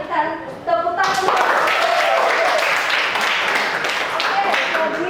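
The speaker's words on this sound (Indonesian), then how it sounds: "Kita berikan tepuk tangan." Classroom applause from a group of students, starting a second in after brief talk and continuing as a steady, dense clapping wash to the end, with voices mixed in.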